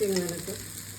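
Sabudana (tapioca pearls) roasted and stirred in a pan for fasting khichdi, a soft sizzle with scraping stirs, close and fairly quiet, fading toward the end.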